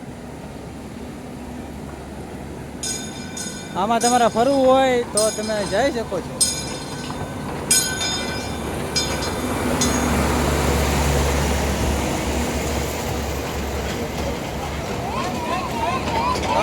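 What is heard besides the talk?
toy train running around Kankaria lake park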